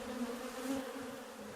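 Honeybees buzz on the comb in a dark hive, a dense, steady drone of many wings with a faint even hum and no voices.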